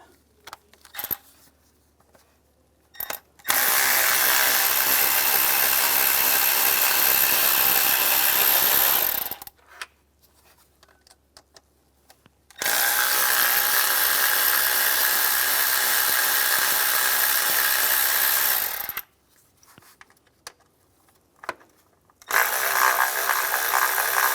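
A power driver with an E7 socket backs out intake manifold studs on a 2004–2010 BMW X3, whirring in sustained bursts of several seconds, each followed by near silence with small metallic clicks.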